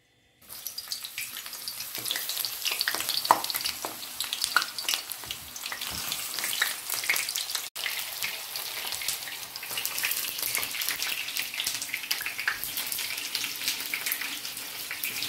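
Eggplant sizzles steadily in hot oil in a pan, a dense, bright crackle running nearly the whole time with one brief dropout midway, no voices.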